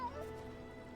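A cat meows briefly in the Sherlock Holmes The Awakened video game: a short, rising-and-falling cry near the start, set over a steady bed of game ambience and music.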